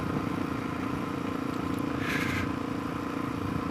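A DRZ 470 motorcycle engine fitted with a Lectron carburetor and running rich drones steadily at close range, with a brief higher rasp mid-ride and no talking.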